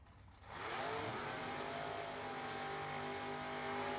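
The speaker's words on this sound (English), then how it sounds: "That's the sound of the semifinals for door cars." Door cars at a bracket drag racing event's semifinals, with engines roaring up from a low idle into a sustained loud, harsh launch roar close by, and no voices over it.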